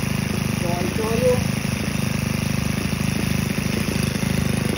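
A Senix 4-stroke weed eater engine idles with a steady close rumble and fine rhythmic putter, settling down in speed; someone speaks briefly over it.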